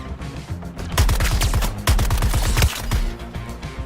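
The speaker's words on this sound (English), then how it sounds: "You should be shooting where I'm going to be instead of where I was." Rapid automatic gunfire in the Suicide Squad video game, loud and close, sounding as dense bursts of shots in a fast rhythm with short gaps between volleys and no talking.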